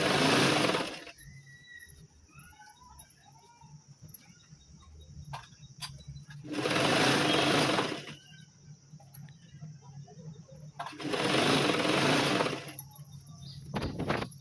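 Sewing machine stitching a saree fall, running in three loud bursts of a few seconds each, separated by quiet gaps with faint background chirps.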